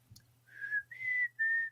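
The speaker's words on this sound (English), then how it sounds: "I can't whistle on command anymore." A person whistles a few notes of a TV theme tune: three sustained, wavering notes, close and fairly soft, with no talking.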